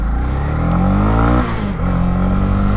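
A Honda CB300R single-cylinder motorcycle engine revs loud and close, its pitch climbing in a rising drone before dropping sharply and settling back into a steady hum.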